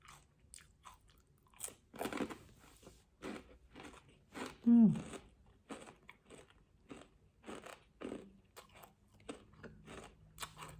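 Crispy fried spring rolls being bitten and chewed up close, with loud crunches recurring irregularly and someone talking between bites.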